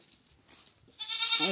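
Goat bleating loudly and close by while its horns are brushed, a harmonic, wavering cry rising near the end after a short stretch of quieter rustling.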